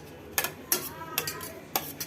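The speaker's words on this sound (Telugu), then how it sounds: "ఇది మళ్ళీ కొంచెం నీట్గా మిక్స్ చేసేసి" A spoon stirs sandwich filling in a bowl, striking the sides in a series of sharp, close clinks and scrapes at an irregular, unhurried rhythm.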